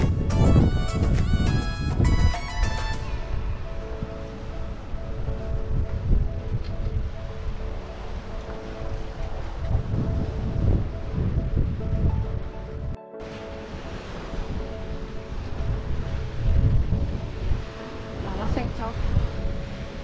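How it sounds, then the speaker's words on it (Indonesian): Heavy outdoor rain driven by wind roars as a steady broadband wash, loud and continuous, with a brief dropout partway and some faint voices beneath. "Hujannya semakin gede soalnya."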